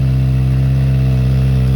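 A Kawasaki Ninja ZX6R with an M4 slip-on exhaust runs at a steady, loud, deep idle close by, with no voices.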